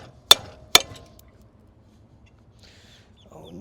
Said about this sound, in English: Need my hammer again.